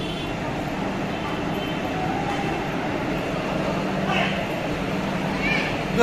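A busy platform at Howrah station beside the Digha Tamralipta Express gives off a steady, dense rumble and crowd noise, with voices talking through the din.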